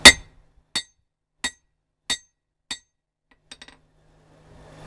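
Hammering coil spring steel into an axe edge on an anvil corner: five loud, ringing metallic blows at an even pace, then a few lighter taps, with no talk.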